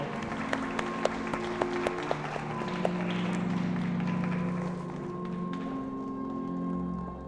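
Wedding guests applaud at a Korean ceremony in Cheonan as the couple bows to the bride's parents, a steady, full wash of clapping with soft music tones sustained throughout.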